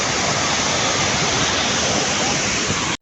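Heavy water pouring and rushing over a dam on a flooded village river in Gujarat, a loud, steady roar of broadband noise that holds unbroken before cutting off at the very end.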